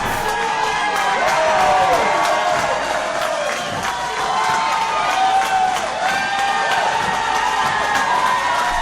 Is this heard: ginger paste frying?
no